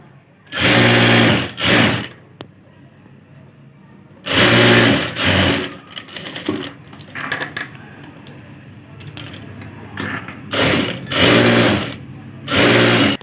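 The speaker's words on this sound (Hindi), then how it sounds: "इस तरह से फोल्ड करके फिर भी सिलाई कर देनी है।" A sewing machine stitches folded blouse fabric in several loud, close bursts of rapid whirring, separated by quieter pauses filled with handling sounds.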